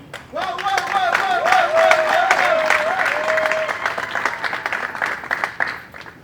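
An audience claps through a crisp, rhythmic round of applause, joined by an ululating or singing voice over the first few seconds before the clapping thins toward the end.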